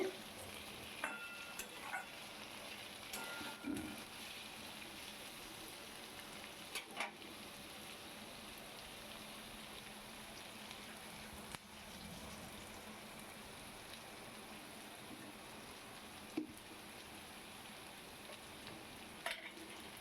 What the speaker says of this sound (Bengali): এইভাবে আলুটা আর পেঁয়াজটা সুন্দর করে কষে যাবে